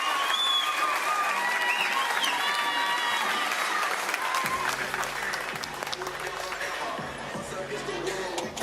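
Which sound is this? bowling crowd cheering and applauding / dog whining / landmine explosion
bowling crowd cheering and applauding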